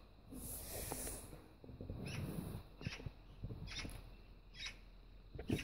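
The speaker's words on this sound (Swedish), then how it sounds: "Fåglar, håll tyst!" Birds call and chatter nearby in short hissing, squeaky bursts, repeated irregularly over a low indoor background.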